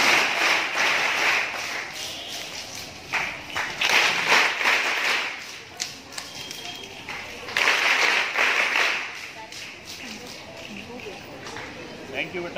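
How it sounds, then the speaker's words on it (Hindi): Children at a school oath-taking ceremony in Bilaspur clap in a rhythmic special welcome for the chief guest, bursts of applause rising and fading over about thirteen seconds with a voice speaking over them. "मुख्य अतिथि आगमन हो चुका बच्चे स्पेशल ताली से स्वागत करते हैं।"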